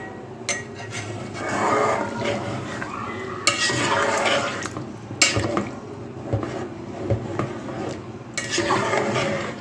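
A spoon stirs mutton yakhni pulao with broth in a pot, making rhythmic, close-up scraping and churning strokes over a soft bubbling sizzle, with no voices.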